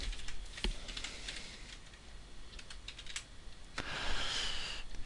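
Typing on a computer keyboard while entering an axis title in an Excel graph, with quiet rapid key clicks and a few louder taps over faint room noise.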